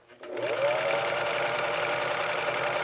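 Sewing machine stitching stretchy dress fabric, starting up quickly and then running in a steady, close, continuous mechanical whir with rapid needle ticks.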